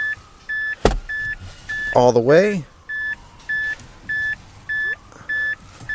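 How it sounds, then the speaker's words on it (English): A Mazda 3 with its key turned to accessory gives a steady run of evenly spaced warning beeps, with a sharp click and a brief rising whine early on, while someone speaks a few words. "Yeah, it's going to be beeping at us"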